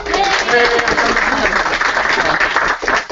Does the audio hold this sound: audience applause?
yes